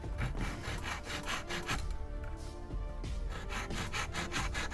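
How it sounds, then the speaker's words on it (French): A small hand saw rasps back and forth through resin in quick, steady strokes, close and loud, briefly pausing before resuming its rhythmic cutting. "Donc j'ai ma petite scie et je vais la couper"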